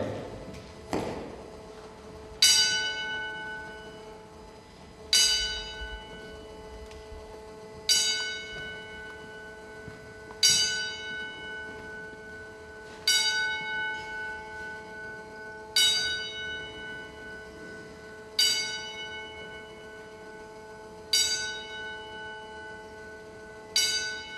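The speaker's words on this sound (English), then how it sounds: "we'd like to have a 10-bell salute to the one and only William Moody, Paul Bearer" A single bell rings out in a slow, evenly spaced series of loud clangs at a wrestling event, each strike ringing and fading before the next, with the hall otherwise hushed.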